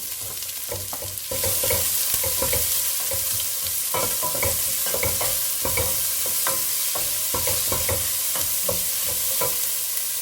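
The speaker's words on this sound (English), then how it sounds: "The mustard seeds have actually started popping, so at this stage I'm going to add in my onions." Onions and mustard seeds fry loudly in hot oil for a green mung bean dal, a strong continuous sizzle broken by repeated sharp pops and spoon-stirring scrapes, with nobody speaking.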